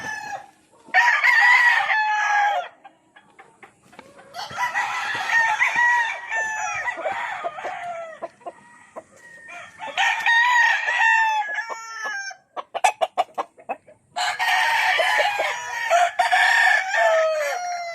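Gamefowl roosters of a Sweater cross in battery cages crow loudly in four long, harmonic bursts close to the microphone, with short clucks and rattling clicks in between and no voices.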